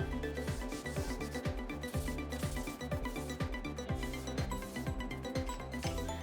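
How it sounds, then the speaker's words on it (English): A wooden crosscut sled runner is lightly sanded with quick back-and-forth strokes, a steady rhythmic rasp close up and without pause. "lightly sand the runner down"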